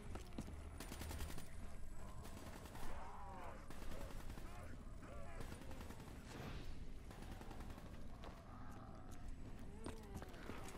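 Gunfire in Call of Duty: Black Ops 3 zombies mode, with dense rapid shots rattling continuously over a busy game soundscape and a voice speaking over it.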